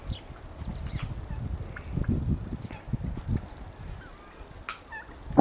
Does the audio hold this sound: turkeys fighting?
yes